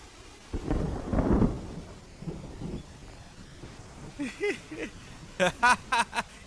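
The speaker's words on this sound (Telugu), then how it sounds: "వర్షం వచ్చేలా ఉందండి" Thunder rumbles loudly in the first seconds, with rain beginning in a comedy scene, followed by people talking.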